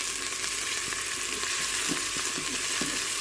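In a Cookeo multicooker, olive oil sizzles with a constant, dense crackle while a utensil stirs, giving faint low scrapes and knocks; no one talks.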